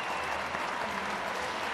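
A record crowd at an England women's T20 cricket match against Australia applauds a dismissal with steady, sustained clapping that sounds moderately distant.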